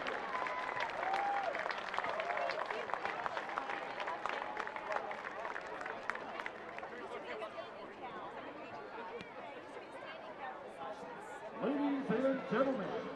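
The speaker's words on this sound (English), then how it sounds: "please give these organizations a round of applause for all they do to raise the game in Charlotte." Crowd applause ripples through a stadium at a USL soccer match in Charlotte, a broad wash of distant clapping and cheering mixed with crowd chatter. Voices rise near the end.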